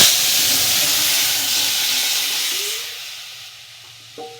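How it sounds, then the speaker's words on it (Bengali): Dal poured into hot garlic tempering for a sour amra dal, a loud hissing sizzle that bursts up at once and slowly fades, ending in a brief clink. "এবার আমি ডালটাকে ঢেলে দেব।"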